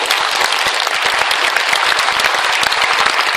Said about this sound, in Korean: 이런 운동을 정말 눈물겹게 하시는 목사님을 위해서 한번 박수 한번 쳐주세요